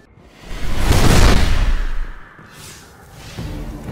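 A Cabal ship from the video game Destiny passes overhead, a broad rising and falling whoosh that swells to a loud roar in the first two seconds, then a softer second pass trails off.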